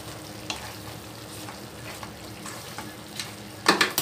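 A spoon stirs chicken tikka mixture with lemon juice in a pan over a soft, steady sizzle, with a few light scrapes and a sharper clatter near the end.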